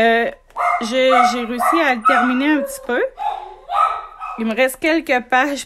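A dog barks, yips and whimpers repeatedly close by, its voice rising and falling almost without pause while someone speaks over it.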